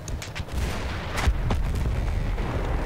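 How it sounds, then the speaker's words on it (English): Heavy cannon blasts boom in a Battlefield 1 battle, several broad thumping explosions rolling over a dense, noisy wartime background, with one sharper nearby report standing out among the rumble. "Oh, there's a cannon."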